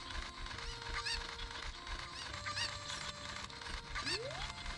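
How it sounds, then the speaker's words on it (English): Chickens (Cuccos) clucking in the video game The Legend of Zelda: Ocarina of Time, heard as faint, repeated squawky chirps over quiet game background sound. "you're gonna be hearing chickens for a while."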